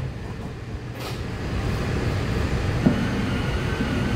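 Disney Magic Kingdom monorail pulling away from the Contemporary Resort, a steady rising electric rumble and rolling hum from inside the car, with a faint clunk partway through.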